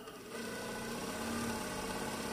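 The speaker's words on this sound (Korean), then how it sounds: "미싱 소리가 굉장히 부드럽습니다." A new home sewing machine runs steadily while it winds thread onto its bobbin, giving a smooth, even, quiet hum and whir that holds for a couple of seconds after a brief quiet start.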